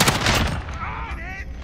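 Rapid automatic M13 rifle fire from Call of Duty Modern Warfare, a loud dense burst of shots in the first half that tapers off, with a brief voice over the tail.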